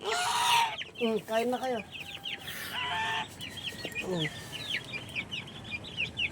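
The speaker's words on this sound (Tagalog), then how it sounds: "gutom na gutom tong mga sisiw ko" Hungry chicks peep and cheep constantly while clucking chickens join in nearby, close and busy; a person speaks briefly at the start over the birds.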